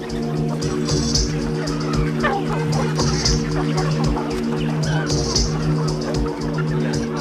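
Dense farmyard din of about 17,000 chickens clucking and squawking at once on a farm in southern Vietnam, steady and continuous, with a low mechanical hum running underneath.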